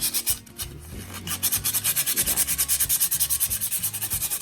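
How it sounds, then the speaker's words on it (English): Sandpaper rubs over a chalk-painted glass mason jar to distress the finish, a steady rhythmic back-and-forth scraping with regular strokes, close and fairly loud, with no talking. "letting the sandpaper do its job"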